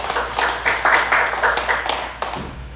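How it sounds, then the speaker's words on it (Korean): A church congregation claps together during a Sunday worship service, a dense, steady patter of many hands that swells and fades over a few seconds in a reverberant room. "하나님께 박수 드리겠습니다"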